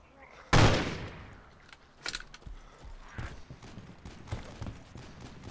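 A sharp loud shot rings out in the video game Arma 2 DayZ, followed by scattered quieter bursts of gunfire, including a .50 caliber turret, and clicks at irregular intervals.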